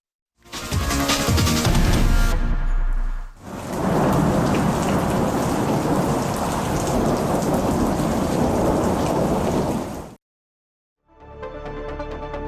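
Heavy rain pours down in a dense, loud roar, broken by deep rumbling thunder, with a brief silence before the downpour resumes.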